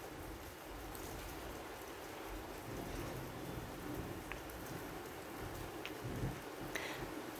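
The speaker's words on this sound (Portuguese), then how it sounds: "E tá chovendo." Steady rain falls in Campos do Jordão, a soft, continuous patter and hiss with occasional louder drops, quiet and even throughout.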